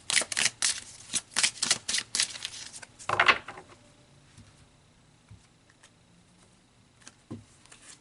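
Tarot cards are shuffled in quick riffling bursts close up, followed by quieter taps and slides as individual cards are pulled and laid down.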